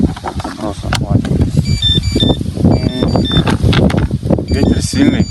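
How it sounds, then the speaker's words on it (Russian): Electronic bite alarms on a carp fishing setup beep in short tonal bursts outdoors in strong wind, with steady wind buffeting throughout and someone talking over them. "Ветер сильный, сигнализаторы пищат."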